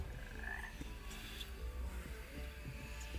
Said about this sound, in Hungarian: teleportálós béka.